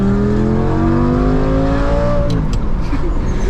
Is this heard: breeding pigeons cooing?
no